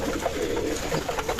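Pigeon cooing, soft low rolling coos close by in a short burst, with no other sounds around it.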